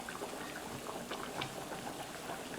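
Eggs cooking in a pan of boiling water, a faint steady bubbling and soft sizzling crackle running throughout with no talking.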